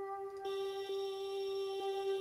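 An ethereal synth layer called Moonlight Arc plays alone as a sustained, shimmering tone that holds steadily throughout at a soft level, with faint pulses underneath.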